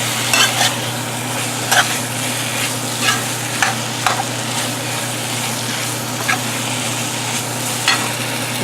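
Potatoes and tomatoes fry in a pan with a steady, close sizzle, while a spoon stirs and scrapes at regular intervals, giving soft knocks every second or so over the constant hiss.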